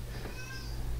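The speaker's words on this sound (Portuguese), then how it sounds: "minha gata tá miando aqui" A pet cat gives a short, faint meow over a steady low electrical hum in a quiet room, with no talking.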